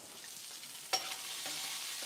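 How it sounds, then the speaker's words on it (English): Pancetta for traditional pasta carbonara frying in a pan over lowered heat, a steady close sizzle and crackle with a single sharp clink of a utensil near the start. "This pancetta, see how it's starting to get a little bit of color here?"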